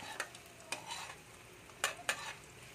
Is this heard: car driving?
no